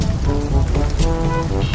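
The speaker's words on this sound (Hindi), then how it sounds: "अगले दिन अभी भी बारिश हो रही है।" Steady, loud rain pouring down on a surface, a dense continuous patter with no voices.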